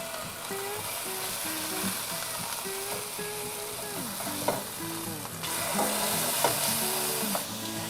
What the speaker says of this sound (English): that oil is starting to get around it and just lightly brown it for us